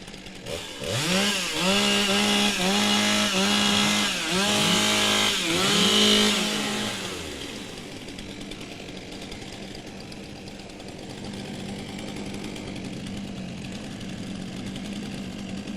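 Several chainsaws revving and warming up at a STIHL TimberSports woodchopping championship in New Zealand, overlapping buzzing throttle blips for about seven seconds, then settling into a lower idling rumble with a crowd murmuring in the background.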